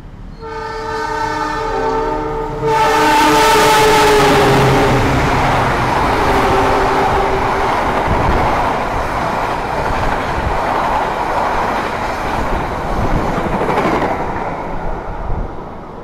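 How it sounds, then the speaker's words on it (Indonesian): The Sembrani express train speeds through Brebes station, opening with a long loud horn blast and then a sustained roaring rush of wheels and carriages that fades slightly near the end, with no talk. "barusan kereta api Sembrani melintas di stasiun Brebes ini ngebut banget"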